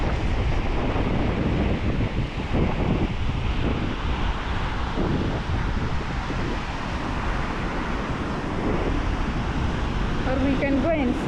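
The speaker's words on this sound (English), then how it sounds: "look at those waves" Ocean surf rolls steadily onto Diani beach in Kenya, a loud constant wash of breaking waves blended with gusty wind buffeting the microphone, with a brief voice near the end.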